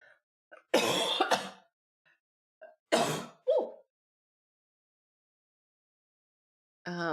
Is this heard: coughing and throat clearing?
yes